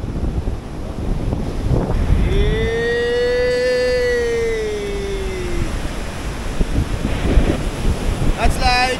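Sea waves wash onto a fine-sand beach in a steady, loud surf roar mixed with gusty wind noise, and a sustained tonal sound rises briefly in the middle.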